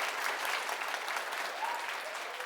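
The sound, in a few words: applause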